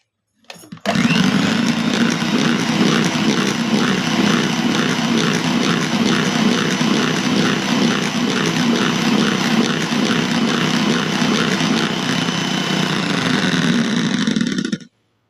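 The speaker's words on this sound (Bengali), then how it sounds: "দিয়ে এটা আবার অল্প আঁচে ব্লেন্ড করে নেব" An electric blender beats eggs and oil for a stovetop cake batter with a continuous, loud motor drone at a steady pitch, running for about fourteen seconds with no talking.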